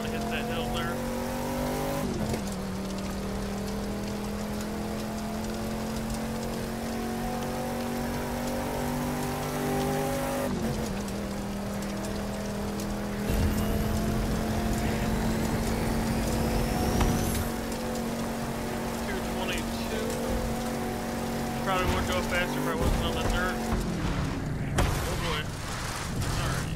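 A 1969 Camaro races across the salt flats in The Crew 2 with a loud, steady engine drone that shifts in pitch a few times as it changes gear and accelerates.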